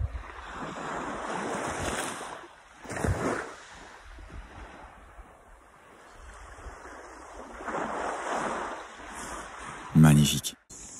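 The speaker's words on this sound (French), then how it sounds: "Juste le bruit des vagues" Ocean waves roll onto a New Zealand beach at night, the surf swelling and fading in slow, repeated washes under steady wind buffeting, with a brief louder crash near the end.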